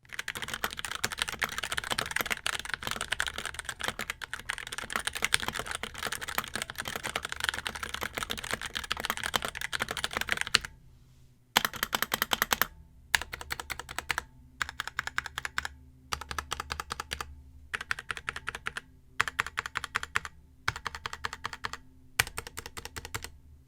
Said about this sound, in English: underneath our keycaps are our beloved Otemu red switches, which feel and sound the same as MX Cherry red switches